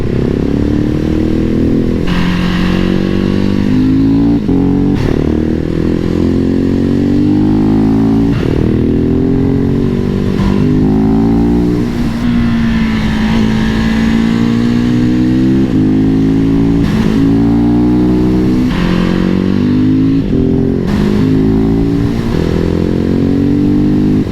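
A 2021 Husqvarna 701 SM supermoto motorcycle works through tight corners, its single-cylinder engine loud and close, revving up and down repeatedly with gear shifts and wind rush, no talk.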